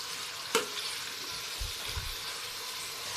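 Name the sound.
stirring and sautéing onion in a pan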